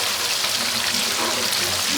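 Murrel fish pieces frying in boiling oil, a dense continuous bubbling sizzle close up and fairly loud throughout, with no break.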